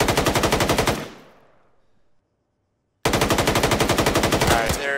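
Machine gun fire in a military video game: a sustained loud burst of rapid automatic shots dies into a fading echo, then after a brief silence a second fast burst starts up.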